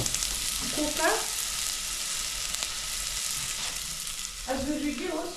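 Garlic and curry leaves sizzle loudly in hot oil with onion while cooking, a dense, continuous frying hiss close by, with a brief voice murmuring under it.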